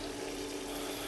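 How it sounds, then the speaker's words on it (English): Cold tap water runs in a steady, close rush to rinse freshly washed wool, an even hiss and splash with no breaks and nobody speaking. "So these have been washed and now they're having their rinse."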